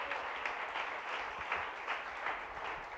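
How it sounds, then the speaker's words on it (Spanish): A church congregation applauds the Lord during a special service, with a steady, dense wash of many hands clapping at once for the whole stretch, fairly distant and unbroken. "Dele fuerte esas palmas al Señor."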